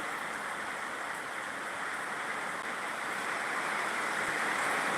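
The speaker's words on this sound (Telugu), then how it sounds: "అన్ఎక్స్పెక్టెడ్గా ఈరోజు అయితే వర్షం రావడం జరిగిందండి" Heavy rain falling at night in Anantapur district, a dense, steady wash of downpour that holds at an even level throughout, with no voices.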